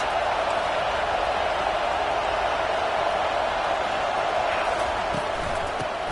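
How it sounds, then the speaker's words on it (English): Football stadium crowd at a rivalry game keeps up a dense, steady roar of cheering throughout, loud and continuous, with faint commentary mixed underneath. "They challenge this crowd to bring the energy, and I'd say they're doing that."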